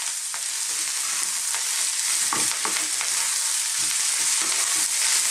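Beef and green beans stir-frying in a dry pan with fresh red chilli crackle with a busy sizzle, broken by repeated scraping and tossing clicks from stirring, close and continuous without talk.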